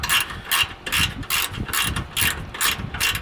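A socket ratchet turns on the steering of a 1946 Chevy, giving a quick series of about seven close, loud ratcheting clicks in an even back-and-forth rhythm, with no one talking.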